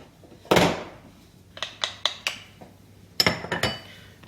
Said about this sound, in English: and then you just mix it all together